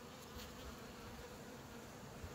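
Honey bees from an opened spring hive, a soft continuous buzzing drone, faint and steady, with no voices.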